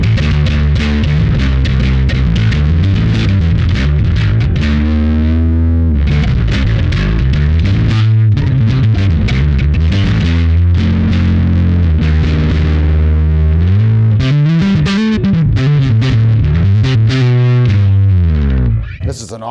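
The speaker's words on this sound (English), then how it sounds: "I keep wanting to go back to overdrive bass tones" A Levi Perry Masterbuilt Empire 58 P Bass with a gritty overdrive effect plays a loud, sustained riff, its distorted low notes sliding and repeating, with no one talking over it.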